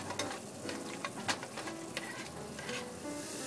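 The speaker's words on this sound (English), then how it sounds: "We're going to start sauteing the garlic and the onions." Garlic and onions sauté in hot oil for pancit palabok, a steady close sizzle with light stirring scrapes and occasional utensil taps, no voices.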